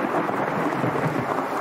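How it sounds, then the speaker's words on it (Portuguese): A thunderstorm in a forest rumbles in a dense, continuous roar of deep thunder mixed with heavy rain, loud and enveloping for the whole brief stretch. "Ele estava no meio da floresta quando uma tempestade começou."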